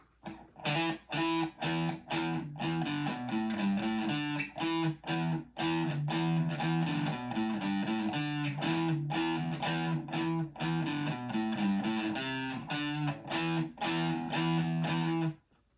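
Heavily distorted electric guitar plays a loud, chugging hard rock riff with sustained chords and rhythmic stops, filling the whole stretch without any voices.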